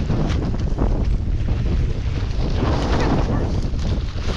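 Strong wind gusts outdoors in the Mojave Desert roar loud and steady across the microphone, a constant buffeting rumble with no pauses.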